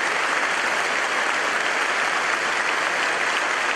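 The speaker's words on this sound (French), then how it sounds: "Un grand applaudissement pour les frères et sœurs pour l'effort que vous êtes en train de faire." Sustained applause from a church congregation welcoming visiting brothers and sisters during a Bible study gathering, dense and steady clapping throughout with no pauses.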